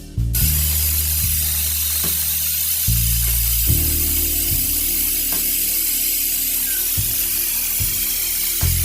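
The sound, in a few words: pressure cooker whistle while cooking haleem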